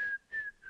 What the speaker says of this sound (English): She is whistling again.